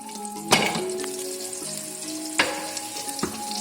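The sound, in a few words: frying ground spice paste in oil for beef nihari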